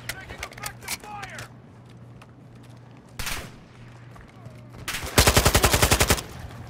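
Gunfire sprays in Warzone 2.0, a brief burst near the start, a loud blast around three seconds, then a rapid, evenly spaced automatic burst of about ten close shots near the end.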